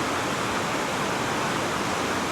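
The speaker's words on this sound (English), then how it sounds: "see the waves there coming over the rocks" The River Valency at Boscastle rushes over rocks in a steady, dense roar of churning water, close and unbroken throughout with no voices.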